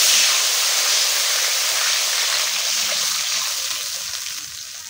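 Water poured into a hot pan of mustard paste for a katla fish curry, a loud broad steaming hiss that fills the clip and slowly eases off, with no talk.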